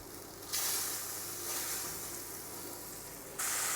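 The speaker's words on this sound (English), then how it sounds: "so now we put some butter in" Butter sizzling in a hot frying pan before apples go in for stewing, heard as a steady crackling hiss that swells and eases, close to the listener and with no voices.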